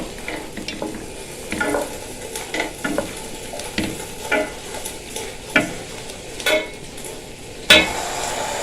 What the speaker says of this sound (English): so I'm mixing everything together